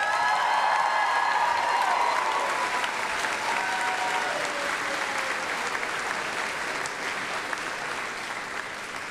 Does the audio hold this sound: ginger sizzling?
no